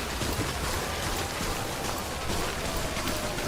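Steady rain hisses evenly throughout in the video game Death Stranding. The wash is dense and unbroken, with no talk over it.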